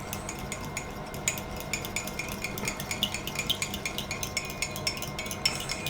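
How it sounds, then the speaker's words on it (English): One egg is whisked for egg wash in a bowl, a quick, steady run of light clicking taps from the whisk against the sides, fairly close and alone without talk. "So you just take one egg, break it and whisk it."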